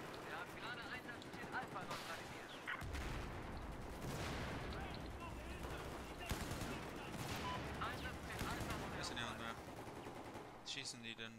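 Enemy gunfire in Battlefield 4, continuous rattling automatic shots heard at moderate distance under steady game noise, with players talking throughout.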